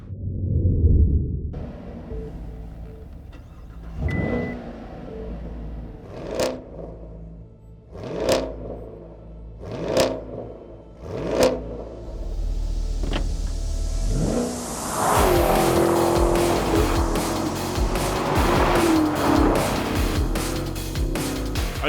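A Chevrolet Camaro SS V8 engine revs in a series of sharp, loud bursts, then settles into a steady roaring drive with rushing wind noise.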